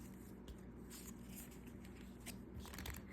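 Sticky playing cards are shuffled close up, giving faint soft riffling and patter against a quiet background hiss.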